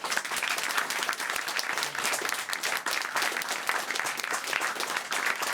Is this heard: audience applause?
yes